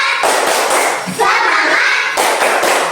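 Group rhythmic spirit clapping at a teacher training session, a steady run of close, loud claps with a brief pause midway before resuming.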